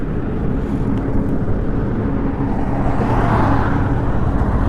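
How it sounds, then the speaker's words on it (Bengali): A line of motorbikes, including a Honda CB 300F, rolls into Kolaghat on a foggy early morning, producing a steady, loud blend of engine and road noise that holds constant throughout without any speech. "সব লাইন বাই লাইন গাড়ি ঢুকছে।"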